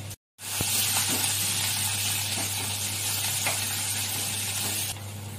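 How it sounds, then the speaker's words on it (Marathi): Crushed garlic cloves fry in hot oil for a Konkani jackfruit vegetable dish, giving a loud, steady, close sizzle that begins after a brief silent gap and carries on without talk. "तेल आपलं गरम झालंय, आपण त्यामध्ये लसूण पाकळ्या ठेचून टाकल्या आहेत"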